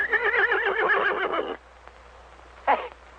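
A horse named in a western film neighs loudly and close for about one and a half seconds in a wavering whinny, followed after a pause by a short, sharp snort or nicker.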